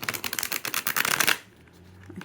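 A quick riffle of tarot cards runs in a crisp fluttering burst, then cuts off, leaving a quiet room.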